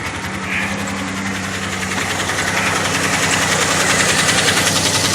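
A 2003 Pontiac Montana engine idles steadily up close, running on five cylinders, with a light ticking and the rough, puffing rasp of a bad exhaust leak that holds at the same level throughout.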